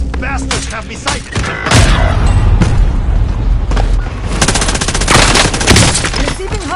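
Loud, close gunfire in Warzone: dense rapid bursts of automatic fire mixed with heavy booms and explosions, continuous across the moment with little pause.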